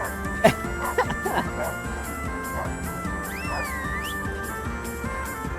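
A dog barks several times in Kingdom Come: Deliverance II, short sharp yaps in an uneven burst near the start, fading into a steady game ambience with a brief whistling tone later.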